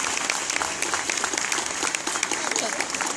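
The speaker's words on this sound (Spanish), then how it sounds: "Le damos un muy, pero muy fuerte aplauso entonces para todos los chicos." Loud, dense applause from the crowd at a Star Wars fan event in Argentina, many hands clapping fast and steadily, with a few voices mixed into the clatter.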